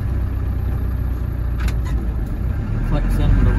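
A 1990 Land Rover Defender 90 pickup with a 200Tdi diesel engine reversing, its engine running at a steady, close drone with faint clicks over the top.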